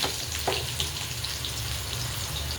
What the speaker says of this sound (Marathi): जिरे आणि मोहरी टाकून घेऊया.